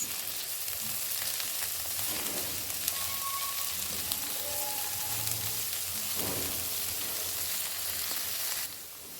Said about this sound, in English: I stir fry this for a minute